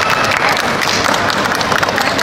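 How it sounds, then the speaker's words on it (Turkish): A burst of applause, many hands clapping together steadily for a couple of seconds, fairly close and lively. "Bize bir alkış alalım mı?"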